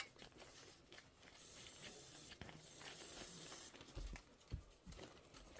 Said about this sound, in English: I'm going to spray the wrong side of my batting, nubby side.